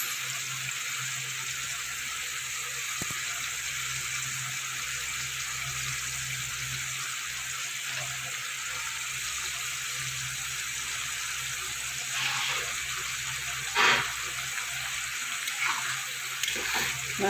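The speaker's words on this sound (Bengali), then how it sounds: "মশলাটা আমি একটু জল দিয়ে দিলাম" Water added to spice paste frying in a pan for a Bengali rui fish curry, a steady hissing, bubbling sizzle with a constant hum underneath and a few sharper clinks near the end.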